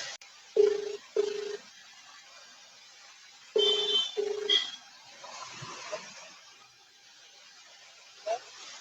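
A phone call being placed: short repeated ringback tones in separated bursts with quiet gaps between them, followed by fainter line noise and a final brief tone, close and clear with no talking.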